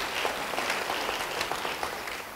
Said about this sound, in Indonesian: Yang mau beri tepuk tangan yang baik bagi dia.